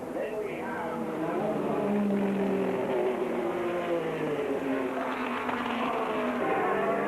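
Race cars, Porsches and Jaguars, rumble round Brands Hatch behind the pace car before the 1987 Shell Gemini 1000km, a continuous droning engine note from the field with a commentator talking over it.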